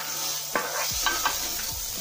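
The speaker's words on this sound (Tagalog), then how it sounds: "Halo lang natin siya." Fried rice sizzles in a pan while being stirred, with a steady frying hiss broken by a few scraping, clinking strokes of the utensil against the pan.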